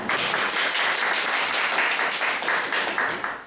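Warm applause from a seminar audience welcoming a professor at an urban pedestrian-environment forum, sustained dense clapping filling the room at an even level throughout.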